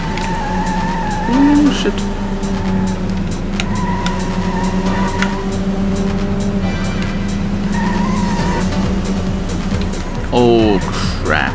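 Engine drone and tire squeals from Metropolis Street Racer on the Dreamcast, with the car revving steadily through the race, screeching on corners and skidding hard near the end, while someone talks over the game.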